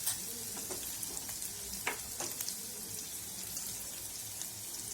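Spices with turmeric sautéing in a pan for an aloo roll snack, a steady close sizzle and frying hiss with a few sharp spits and stirring clicks, no voices.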